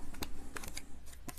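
A deck of tarot cards is cut by hand during a weekly reading, giving a few quick, soft papery snaps and slides close to the microphone, with no talk.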